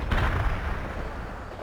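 Video game battle with a heavy boom of artillery or an explosion, followed by a dense rumbling roar of gunfire that fades slightly over a short, loud stretch.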